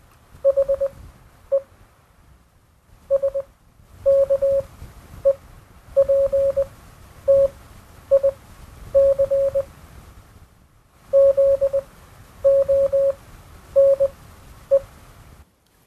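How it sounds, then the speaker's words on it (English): Morse code bleeps as a single clear tone, sounding in short dots and longer dashes grouped with pauses between letters and words, fairly loud over a faint low background. "some of you out there probably knew what that said, that little bit of Morse code"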